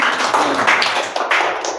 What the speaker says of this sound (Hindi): ताली बजाएं, ताली बजाकर जिनका उत्साहवर्धन करें